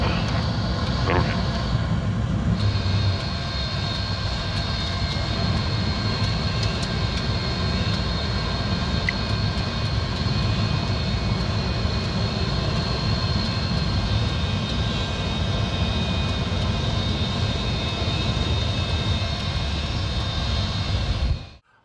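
Antonov An-124 aircraft engines droning steadily during a flight, a continuous loud roar with a high whine that holds for the whole stretch before cutting off at the end.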